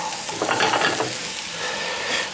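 A shallot frying in a tablespoon of butter in a skillet, with a steady, close sizzle and light stirring scrapes throughout and no talking.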